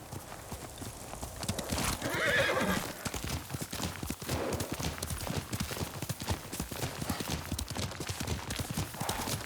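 A horse clip-clops with a rapid, irregular hoof rhythm throughout, and a loud whinny near the start. The scene is a period drama.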